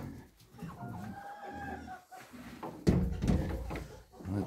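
Farm chickens cluck and call with a few rising, tonal notes at close range, followed by a louder clattering knock partway through.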